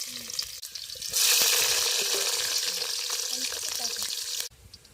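Garlic drops into hot oil in a pan at a riverside cooking spot and bursts into a loud, steady sizzle for several seconds, with a quieter, softer hiss before and a sudden drop to faint sound at the end.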